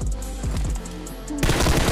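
Automatic gunfire in the mobile game PUBG Mobile, with rapid bursts of shots up close, loud, then a denser, brighter volley near the end; no talk.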